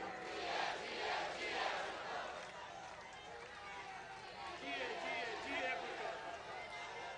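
A large crowd at a Pakistan Peoples Party foundation day rally chants the slogan "Bhutto" in loud repeated waves, with rhythmic swells of massed voices and steady crowd roar throughout.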